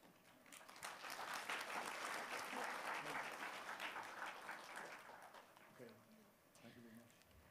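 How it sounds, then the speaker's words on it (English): An audience applauds Professor David Jewitt after his lecture on interstellar visitors to the solar system, a dense, steady round of clapping that swells, holds, then thins out, with a voice speaking over the fading end. "Let's give a big round of applause to thank Professor David JEWITT."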